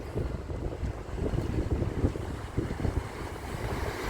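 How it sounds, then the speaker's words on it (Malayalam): Low rumbling surge of strong sea waves at Azhikkal beach mixed with buffeting wind noise, continuous and heavy, with no voices. "തിരമാലയൊക്കെ ശക്തമായിട്ടുള്ള തിരമാലയാണ് കടലിലേക്ക് വരുന്നത്"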